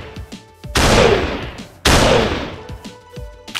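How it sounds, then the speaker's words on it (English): Two loud, booming shotgun blasts from a Minecraft game, about a second apart, each trailing off in a long decaying roar, close and dominant with no talk over them. "Shotgun kinda good."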